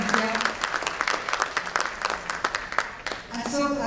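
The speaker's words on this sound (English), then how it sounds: "Can we have another special round of applause?" Audience applause at a sports and business address, a steady wash of clapping from a crowd filling the hall, moderately loud and continuous for a few seconds with speech over it.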